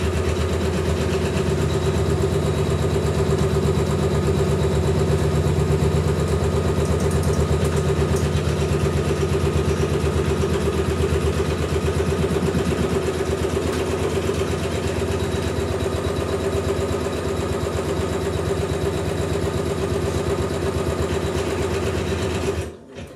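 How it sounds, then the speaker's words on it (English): A Janome MC9900 embroidery machine stitches a placement line for in-the-hoop coasters, giving a steady, close mechanical whir with a fast even needle rhythm that runs continuously and then stops right at the end. "it's stitching out my placement line"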